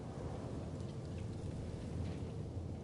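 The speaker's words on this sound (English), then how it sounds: "The storm." A thunderstorm in the Life Is Strange video game: steady heavy rain hiss with low rolling thunder rumbling underneath, continuous and fairly soft throughout, no voices.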